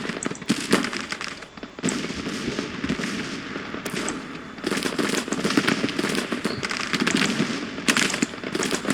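Dense volleys of musket and rifle fire in the Civil War strategy game Grand Tactician: The Civil War, sharp cracks and crackling bursts rolling in waves at mid distance, loud and continuous.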